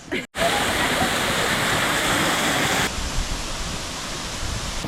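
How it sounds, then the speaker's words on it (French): A large, impressive waterfall on a hiking route in Croatia roars as a dense, steady rush of falling water, loud and close, dropping slightly in level partway through, with no talking. "Je sais pas si c'est celle-là la cascade finale, mais c'est vrai qu'elle est assez impressionnante."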